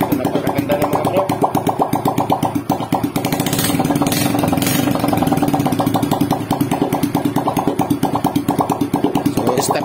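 A Honda XRM125 motorcycle engine running with no exhaust pipe fitted, giving a loud, raw, rapid steady putter close by that holds its pace with slight surges in level.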